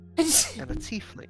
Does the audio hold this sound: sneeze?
yes